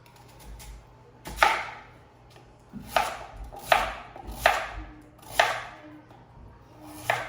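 A knife chopping through a sweet potato on a cutting board, about seven firm, close thuds at uneven intervals with faint scraping between them and no talking.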